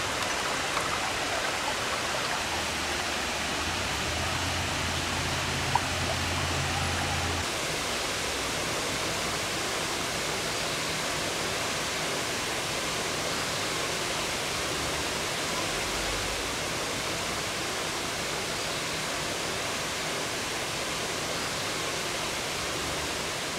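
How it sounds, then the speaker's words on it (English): Steady, broadband rush of Cunningham Falls waterfall at below-peak flow, constant and fairly close, with no voices and no change in intensity throughout. "Like many waterfalls at this time of year, the water flow isn't at its peak."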